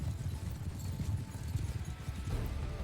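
Cavalry hooves pound in a Mount & Blade 2: Bannerlord battle, a dense, continuous clatter of many horses galloping together at mid distance, steady and rumbling with no break and no talk.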